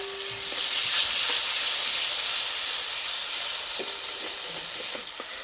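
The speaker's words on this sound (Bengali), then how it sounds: "এই মশলাটা হালকা আঁচে ভেজে নেব।" Ginger-garlic paste masala with tomato fries in oil for a mustard-paste rohu fish curry, an even, loud sizzle and hiss with occasional light stirring taps.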